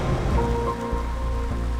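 Torrential rain roars steadily on the Dempster Highway in the Canadian Arctic, a loud, dense wash of falling water with no voices, close and constant throughout.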